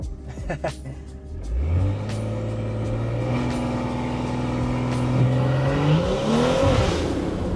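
A BMW with a loud B58 engine accelerates hard on a backroad, the exhaust note rising steadily through the revs as the car pulls, heard close from inside the cabin with brief talk at the start.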